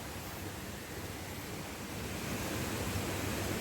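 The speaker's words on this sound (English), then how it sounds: "I have to do a water crossing." Water rushing at a rocky stream crossing on a twilight hike, a steady broadband wash with no pauses that swells slightly louder toward the end, no voices.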